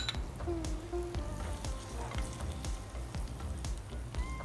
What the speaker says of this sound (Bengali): গার্লিকটা আমি প্রথমে ভেজে নিই।